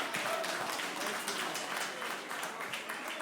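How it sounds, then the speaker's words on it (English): A conference audience at an Africa Day session breaks into sustained applause, a dense wash of many hands clapping at moderate distance with no pause. "A big round of applause"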